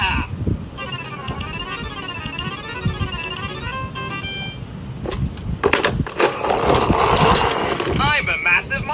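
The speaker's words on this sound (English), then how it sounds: "I'm a massive monster truck." A toy monster truck plays electronic sounds: bright warbling musical tones give way to a harsher, noisy mechanical engine rumble in bursts near the end, with a voice talking over parts of it.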